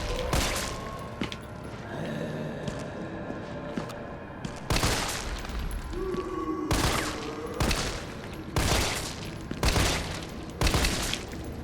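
Gunshots ring out in the video game Resident Evil 3 Remake, a string of loud, sharp blasts spaced a second or two apart over ambient game noise and footsteps.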